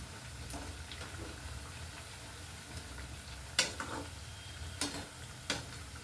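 Chana dal vadas deep-frying in oil bubble and sizzle steadily, while a few sharp metallic scrapes and taps from a slotted ladle turning them cut in near the end.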